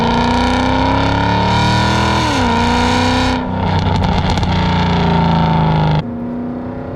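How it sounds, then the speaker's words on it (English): Catless Mercedes CLK63 Black Series V8 drones loudly under steady throttle, pitch dipping briefly, then a burst of harsh crackling exhaust before settling back to a constant rumbling racket. "It is just a constant racket."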